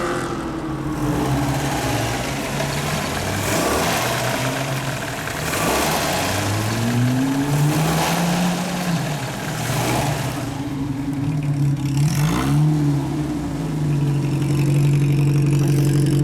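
A 1948 MG TC's small old engine, started by pull starter, idles with a steady chugging putter, its pitch rising and falling as it revs briefly, close and continuous.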